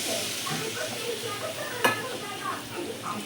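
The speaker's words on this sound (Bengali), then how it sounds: "ভালো করে কষিয়ে এবারে জল দিয়ে দিচ্ছি।" Crab masala sizzles softly in a pan, and a sudden sharp burst of hissing comes as water is poured in, then a quieter sizzle continues alongside faint stirring.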